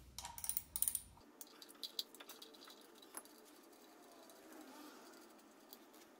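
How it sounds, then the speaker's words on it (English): An 8mm socket on a ratchet loosens the valve cover screws of a Kawasaki Vulcan 900 motorcycle, giving a quick run of close metallic clicks at the start, then sparse faint clanks and handling noise in a quiet room. "Then you'll need a 8mm socket to get the cover off."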